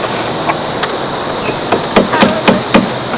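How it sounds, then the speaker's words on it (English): A hammer drives a nail into wood with a series of sharp knocks, sparse at first and then quicker, loud and close over a hissy background. "Hammer it in."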